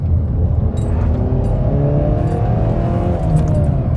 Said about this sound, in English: Listen to that gravel hit them tires.